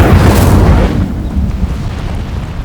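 A fiery Incendio spell is cast in Hogwarts Legacy, giving a loud, booming burst of flame at the start that rolls into a rumbling roar and slowly fades.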